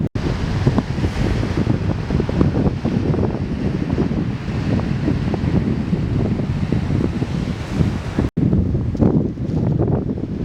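Waves washing onto a beach by bathing boxes, a continuous broadband roar mixed with heavy wind buffeting the microphone, steady and loud with no talk.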